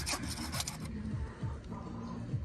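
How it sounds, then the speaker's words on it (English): A hand saw cuts through the plastic of a differential bush on a Ford BA/BF XR6, giving a quick run of close, raspy strokes at first, then slower, softer scraping. "I'll give it a bit more sawing, and then we'll pop it out."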